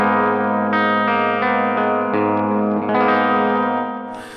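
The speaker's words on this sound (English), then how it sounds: "Here is the bridge pickup clean." A clean electric guitar on the bridge pickup plays sustained chords, ringing out steadily with a slight shimmer, close and fairly loud, no voices.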